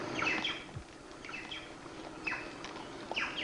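Birds on a large Brazilian farm chirp and tweet in short, bright repeated calls, with several clustered bursts over a quiet, open outdoor background and no talking.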